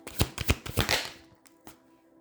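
Tarot cards being shuffled by hand, with a quick series of crisp riffling slaps and flutters that fade into a couple of softer taps, close and clear, no voices.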